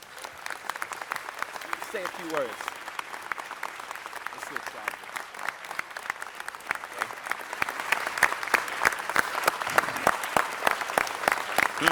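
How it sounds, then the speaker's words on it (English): A city council chamber audience breaks into sustained applause, many hands clapping steadily and building louder toward the end, with a brief spoken voice early on. "So let's give Joe Louis Hughes a great round of applause."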